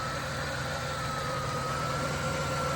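The 3.8-litre 3800 fuel-injected V6 of a 1991 Oldsmobile Toronado Trofeo idles with a steady, smooth low hum, heard close up with no talking.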